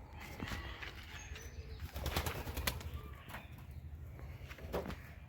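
Deshi Golla pigeons coo softly on a rooftop loft, with low, repeated murmuring calls under faint ambient noise.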